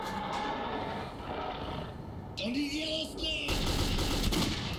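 Rapid gunfire bursts in the video game Metro 2033, a steady crackle of shots running throughout with a louder stretch near the end, under some faint talk.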